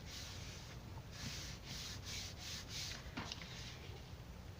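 Rasping strokes of a hand file against a scrapbook layout piece, a steady run of soft scraping passes repeated close up with no voices.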